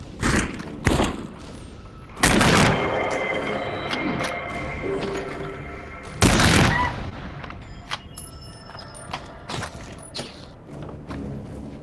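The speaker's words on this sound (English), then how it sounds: "Shoot at him as well." Gunfire in the VR shooter The Light Brigade on Quest 2, loud sharp shots in an irregular pattern with a few heavy blasts and quieter ringing effects between them, no talking.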